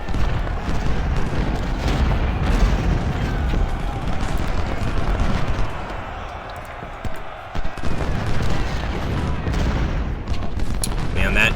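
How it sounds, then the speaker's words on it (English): A naval bombardment pounds the field in the Ultimate General Civil War video game during the Union at Shiloh battle, with booming shellfire and volleys of musketry rolling on steadily. Loud throughout, with voices mixed in. "that naval bombardment is so helpful"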